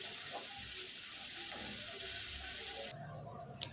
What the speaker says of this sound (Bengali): পেঁয়াজ ভাজবো যতক্ষণ না পেঁয়াজ নরম হয়ে যায়।